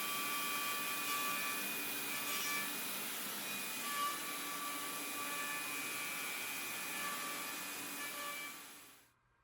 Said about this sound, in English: I'm going to use the same process to cut the tenons out of the two back rails.